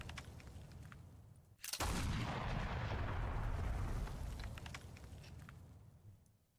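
Cannon fire in a bullet hell video game: a sudden loud blast that swells into a long, roaring rumble, slowly fading over several seconds.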